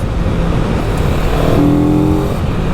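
A loud 2023 CFMOTO 700 CL-X motorcycle engine roars close by, revving up to around 6,000 RPM with a rising growl as the pitch climbs, continuous throughout with no voices.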